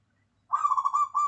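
Local zebra dove (perkutut) cooing, a close, clear burst of quick bubbling notes after a short silence, rising into a trilled phrase that pauses briefly and resumes.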